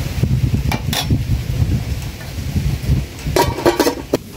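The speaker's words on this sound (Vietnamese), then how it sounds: "giờ mình đậy nắp lại nha cả nhà" A lid goes onto a pot of bottle gourd braised with peanuts and climbing perch in a rural kitchen, giving several sharp metallic clinks and clatters over a low rumble.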